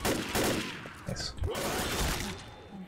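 Bursts of gunshots in the video game Left 4 Dead crack out in quick succession at close range, mixed with a voice talking over the shooting.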